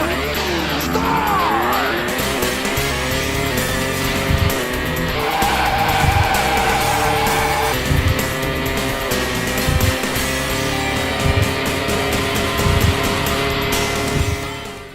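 Street racing cars in the Sega Saturn game Wangan Dead Heat, engines revving and shifting steadily while tires squeal and skid through drifts, loud and continuous with a game soundtrack underneath.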